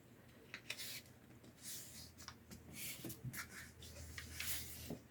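Paper gift bag from Dollar Tree being folded in half, close soft rustling, rubbing and crinkling with several sharp creasing scrapes in irregular bursts, no talking.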